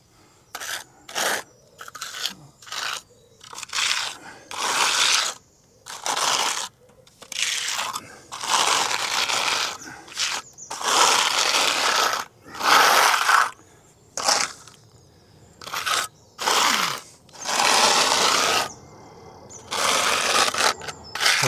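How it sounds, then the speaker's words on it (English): Hard trowel repeatedly scraping back thin render on a wall during crack repair, a series of close, rasping scrapes in irregular bursts separated by short pauses. "everything you can scrape off with a hard trowel movement is stuff you don't really need on there"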